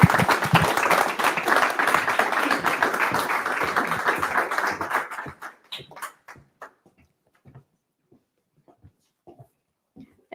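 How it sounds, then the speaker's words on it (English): An audience at a talks event in Madrid gives a full round of applause that fades after a few seconds into scattered, trailing claps and then quiet. "Please, everyone, join me in a round of applause."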